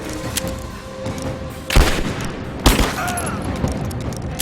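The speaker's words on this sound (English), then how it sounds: "I'm under fire!" Gunfire in the video game Rise of the Tomb Raider, with two loud, sharp shots standing out over a continuous rumble of distant combat and scattered crackling fire.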